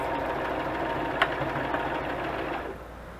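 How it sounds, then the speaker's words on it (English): A sewing machine back-stitches a collaged button booklet, whirring at a steady close-up pace with a brief click partway through, before the motor slows and fades near the end. "then I just kind of do a back space or a back stitch on the top and the bottom of these"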